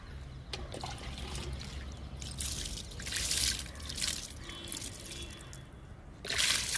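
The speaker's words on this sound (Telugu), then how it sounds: "డబ్బాలో కూడా వాటర్ పోసా." Water poured into a container while fertilizing rose, chrysanthemum and star fruit plants, heard as soft trickling and splashing bursts that swell and fade over several seconds, with no talk.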